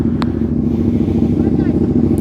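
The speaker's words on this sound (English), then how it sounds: "All these bikes at the meet." At a car meet, a loud close engine rumble from motorcycles fills the whole short moment, with a brief clatter near the start.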